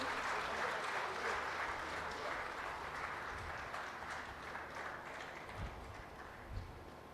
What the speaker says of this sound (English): let's give a resounding applause to him